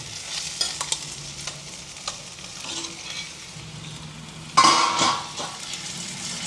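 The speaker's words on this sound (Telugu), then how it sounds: "చికెన్ వేసుకొని మంచిగా కలుపుకోవాలి." Chicken for a gongura chicken fry spits and crackles in a pan as a spoon stirs it, with clinks against the pan and a loud burst of sizzling partway through, no talk.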